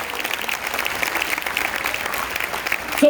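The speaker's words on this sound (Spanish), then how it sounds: "Levante la mano, un fuerte aplauso a lo que son la plaga de Jesús." Congregation clapping steadily at a church service, a dense even wash of applause throughout with no break.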